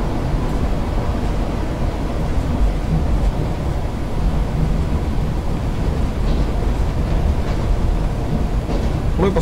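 An ED9M electric commuter train runs with a steady low rumble and rolling rail noise, continuous and fairly loud, and a faint wind buffet can be heard over the track sound.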